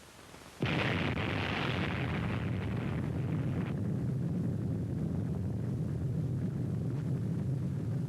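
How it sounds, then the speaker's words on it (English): A sudden massive atomic bomb blast from the 1946 Operation Crossroads test erupts from near silence, then a sustained deep roar and rumble that keeps rolling on without fading. "the speed relationships of the various phases of this explosion"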